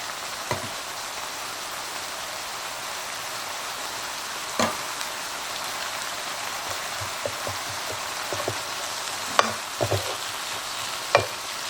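Tomato paste toasting in a pan with a steady, faint sizzle, while a utensil scrapes and stirs it in scattered knocks and scrapes at close range.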